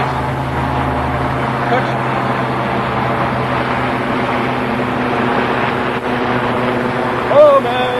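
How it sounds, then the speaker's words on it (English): A helicopter passes over a woodland glade on a countryside nature ramble, its low, steady engine and rotor drone holding throughout at moderate distance, with faint background noise and no clear talk. "Yes, it's a helicopter."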